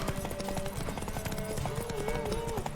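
Rapid hoofbeats of a galloping horse in The Witcher 3: Wild Hunt clatter continuously over a busy mix of music and background noise, with voices calling out now and then.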